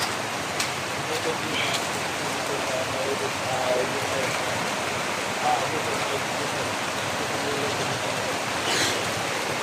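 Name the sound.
heavy rain getting stronger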